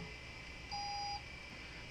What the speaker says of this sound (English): It tries to spin, and then it detects that it's not going anywhere, and gives up and emits a beep.